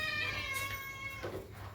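Cats meow loudly and repeatedly in a home kitchen where dough is being shaped for flatbread, their cries sounding close and insistent against a steady low background hum.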